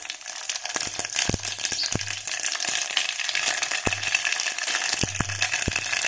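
Cumin and mustard seeds frying in hot oil for spinach dal, a dense continuous sizzle and crackle with sharp popping spits and a repeated low scraping rattle of a pan, with no voices.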